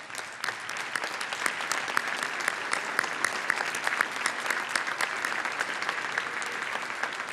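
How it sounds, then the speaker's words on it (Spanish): An audience at a forum applauds the panel members as they are introduced, a sustained, even wash of many hands clapping, slightly distant in a large hall. "Un aplauso para ellos"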